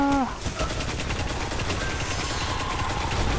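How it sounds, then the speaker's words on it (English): Rapid automatic gunfire in the video game Destiny rattles continuously and loudly, dense bursts of shots filling the whole stretch after a brief electronic tone at the start. "I'm just shooting random things"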